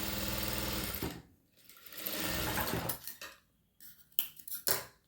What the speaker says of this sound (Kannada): ಈ ಥರ ಒಂದು ಸ್ಟಿಚ್ ಹಾಕಿ.